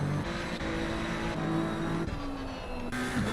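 A race car in the Assetto Corsa Competizione racing game at Silverstone crosses the Grand Prix start-finish line, its engine droning steadily with shifting revs throughout, fairly loud and continuous.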